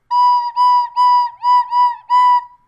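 A beginner plays one recorder note six times in short, slightly uneven bursts with a breathy, wavering tone, loud and close, with no voices.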